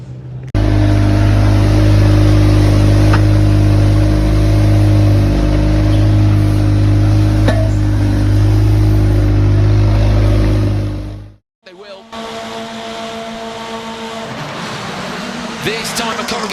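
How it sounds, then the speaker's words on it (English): Rallycross cars launching at a race start in Montalegre, Portugal, with a loud, sustained roar of several engines accelerating hard, abruptly cut and followed by a quieter, more distant engine note. "This time McLaren gets away well, smoke from the rear tyres of both him and Tommy Howard."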